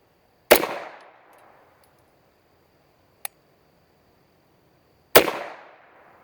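Two loud, close gunshots from a handgun firing dented Federal Punch ammunition, each a sharp crack with a decaying echo, about four and a half seconds apart, with a brief faint click between them.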